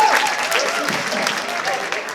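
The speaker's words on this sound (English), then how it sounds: "Based on that applause, it's pretty clear this is what they really want." An audience at a Shark Tank presentation event claps steadily, a dense continuous patter of many hands at even loudness, with some voices mixed in.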